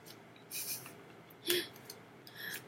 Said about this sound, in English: I'm gonna shuffle this again because I don't remember slicing it.